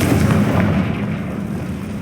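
Confringo fire spell in Hogwarts Legacy combat, a loud, sustained fiery blast with rumbling, crackling bursts that carry on steadily throughout and fade slightly at the end.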